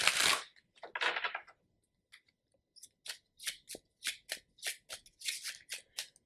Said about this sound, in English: So we're going to pull out a few oracle cards to define this reading more.